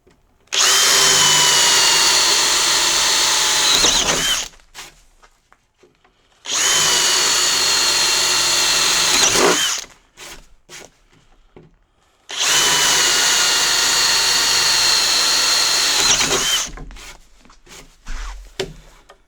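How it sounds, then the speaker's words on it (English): A power drill bores a hole with a drill bit. It runs in three loud, close bursts of about four seconds each, split by short quiet gaps with faint handling noises. "Okay, so I drilled an extra hole here"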